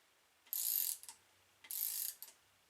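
Ratchet wrench snugging down injector hold-down bolts on an engine, two quick bursts of fast clicking close by, each followed by a short softer click, in a quiet setting.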